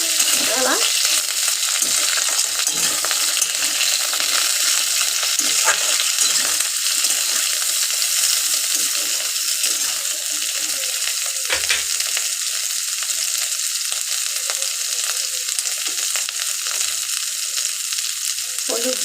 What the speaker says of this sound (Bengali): ডাটা এখানে আমি ভাজতে থাকি